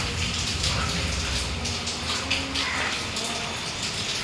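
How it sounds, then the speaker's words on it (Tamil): Rainwater pours down from the upper floor through the floors of a mosque during heavy rain, a steady broadband gush and splatter that runs unbroken and fairly loud throughout, with no voices. "இப்படி தான் மேலேருந்து தண்ணி இப்படி தான் ஊற்றுது"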